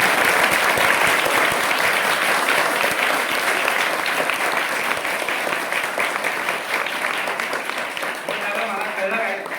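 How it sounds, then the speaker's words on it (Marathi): Dense, sustained applause from a school audience at a District Legal Services Authority programme at The Model English School, Saitawade, many hands clapping steadily and loudly for about ten seconds, easing slightly near the end. "तर मी माझं भाषण संपू तर टाळ्या वाजवा"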